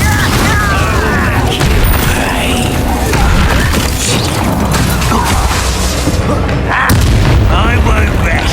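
Incendio fire spell cast in the video game Hogwarts Legacy, loud booming blasts and crackling bursts of combat noise running continuously over several seconds with heavy rumble.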